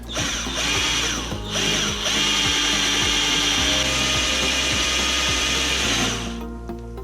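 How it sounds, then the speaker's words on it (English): A power drill grinds steadily through a metal con-rod, with a continuous whining buzz and repeated ratcheting clicks, loud and close, before winding down at the end. "this drill bit will go through there eventually"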